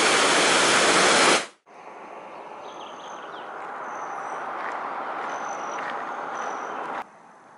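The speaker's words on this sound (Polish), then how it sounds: "To jest rzeka, którą usiłowałam przekroczyć." River water flowing along the Colorado Trail in Colorado, a steady broadband rush close by that holds evenly for several seconds after a brief loud burst at the start, with faint bird calls above it and no talk.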